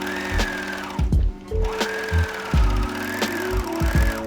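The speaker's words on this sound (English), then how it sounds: "I'm going to serge along this edge" Serger sewing along a fabric edge, short whirring bursts of stitching separated by brief pauses with a rhythmic mechanical thump, close and clear, no voices.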